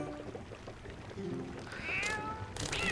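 A cat meows in a Zelda: Twilight Princess cutscene, two short rising mews over a busy low game soundscape of music and rumble, the second closing out the moment.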